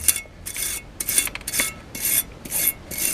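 Wire brush scrubbing Mitsubishi Outlander brake parts: repeated harsh raspy strokes, about seven in quick rhythm, close and loud, with no talking.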